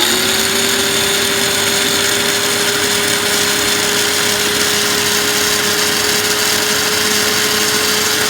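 Food processor chopping tomatoes for lahmacun topping, a loud steady motor whine with grinding noise, running continuously without pause.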